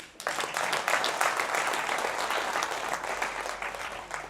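An audience at a Hindi motivational talk breaks into steady, dense applause that fills the whole stretch, loud and close, with no speech over it.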